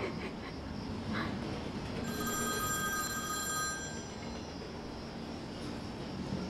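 A telephone rings in a Pakistani TV drama episode, a clear electronic ring lasting a couple of seconds over a dull background hum, with no talking.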